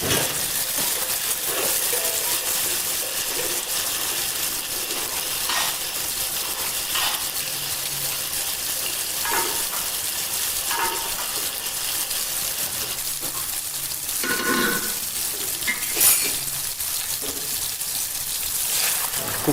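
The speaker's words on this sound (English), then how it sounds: "Mix and fry well." Dal frying in a pan with cooked tomato and other ingredients while being stirred, a continuous dense sizzle with occasional scraping and clinking of the spoon, steady and close.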